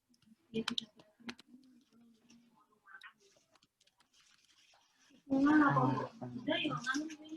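Keystrokes on a computer keyboard during an online discussion of Nusantara manuscripts: a few sparse, faint clicks in a quiet room, then a voice starts talking over them.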